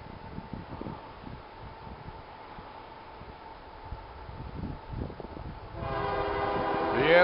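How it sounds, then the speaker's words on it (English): A Union Pacific-led freight train rumbles closer, then its horn blasts in a loud, sustained multi-tone chord that builds toward the end. "Listen to that horn, boy. That sounds good. Looks like a Union Pacific."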